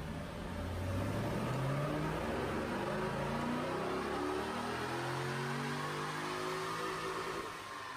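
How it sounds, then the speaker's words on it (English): A Corvette on a dyno runs a full pull, its engine climbing steadily through the revs, loud and close and unbroken for several seconds before easing off at the end. "Let's start with a quick video of us doing a dyno pull on the Vet"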